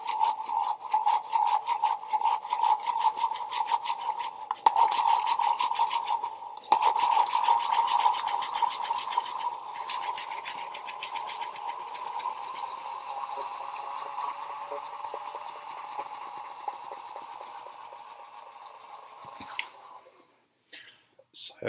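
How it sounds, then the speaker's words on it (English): An NSD Powerball gyroscope is spun up by hand to high speed, giving a close, steady whirring drone with a rough, raspy edge that holds then fades near the end, no talk. "I'm just going to spin it up for you so you can hear it spin"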